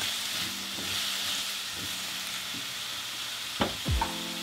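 Shredded jackfruit being stirred in a hot pan gives a steady, even sizzle and hiss, then a couple of louder scraping stirs near the end. No one speaks.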